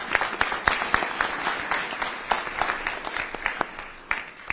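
At a council meeting, a modest audience claps for honorees, with scattered individual claps standing out over a thinner round of applause for a few seconds.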